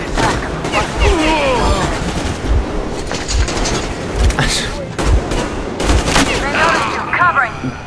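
Loud, continuous gunfire in the post-apocalyptic shooter Metro Exodus, with repeated heavy thumping shots and rattling bursts, while a voice calls out briefly amid the fighting.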